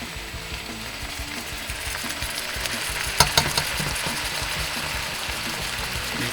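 Pineapple pieces sizzle steadily in a hot pan, with a few sharp clinks from stirring near the middle and no talking.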